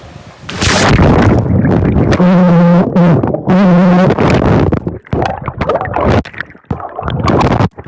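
A person dives into a cold pool from about 2 metres, captured underwater by an Apple Watch voice recorder: a loud splash, then muffled churning, bubbling and gurgling with a few tonal warbling bursts, all distorted and close.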